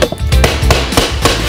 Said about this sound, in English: And then you have to tap it along the sides until it lays down flat.